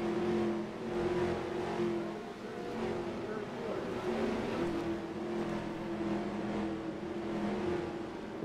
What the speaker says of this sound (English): it looks like the first car to go a lap down is going to be Jason Bates shortly